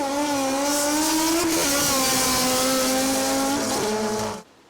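A locally built Honda K-series engine in an all-motor M1 Civic race car screams at high revs, pitch rising and dipping as it revs loudly and close, then cuts off abruptly.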